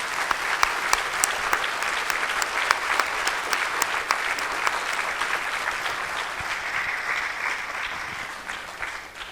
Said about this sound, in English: we give a round of applause for George for his birthday